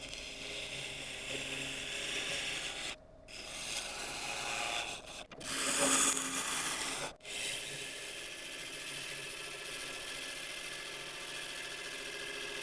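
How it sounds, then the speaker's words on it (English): Steady close rasping of a woodturning tool edge being sharpened on a grinder for mulberry work, continuous with a few brief pauses and a short louder burst midway. "I'll just quickly sharpen up one more time"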